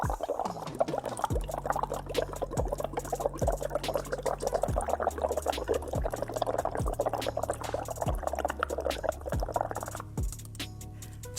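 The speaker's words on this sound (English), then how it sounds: "what happens when you simply blow a little bit of air into the water?" Air blown through a straw into a glass of Kangen water, a steady close bubbling and gurgling with repeated low plopping bursts throughout, fairly quiet and with no talking.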